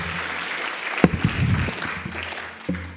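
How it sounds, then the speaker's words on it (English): Conference audience applauding a speaker named Sandeep, a soft, steady patter of clapping in a hall with some faint voices and thumps mixed in. "Give another round of applause to Sandeep."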